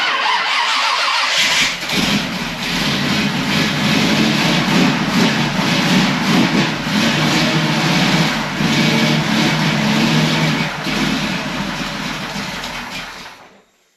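A big block V8 in a Chevy Nova with a four-speed catches after a brief crank and settles into a loud, steady, rumbling run, close by and alone, with no voices over it, fading out at the end.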